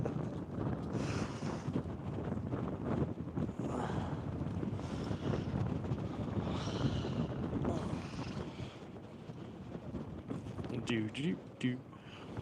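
Strong wind on the high plains batters the microphone in heavy, gusting roars that rise and fall through the whole stretch, loud and close, with voices talking underneath.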